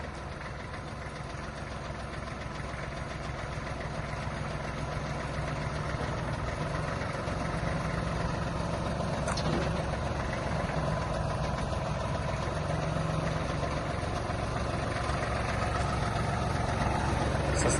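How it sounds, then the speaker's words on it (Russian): Kubota L1-215 mini tractor with a front loader, its diesel engine running steadily nearby with a low rumble and a slight rise in effort while the bucket is raised. "Покажем подъем ковша"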